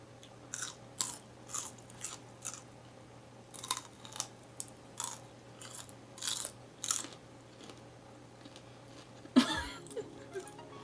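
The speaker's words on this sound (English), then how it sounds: "That's probably the ugliest way you've ever seen someone eat celery, right?" Crunchy celery sticks are bitten and chewed up close during a buffalo wing meal, a quick series of sharp crisp crunches separated by short pauses in a quiet room.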